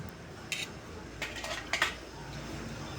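A large cooking pot used for making lugaw (rice porridge) at a food stall is handled, giving a few faint, scattered metallic clinks and taps over a quiet background.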